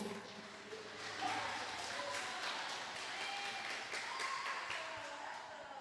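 A church congregation applauding after a call to praise Jesus, a steady wash of many hands clapping at moderate distance with a faint voice or two underneath.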